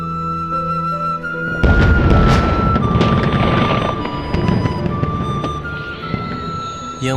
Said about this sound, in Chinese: 烟花一落日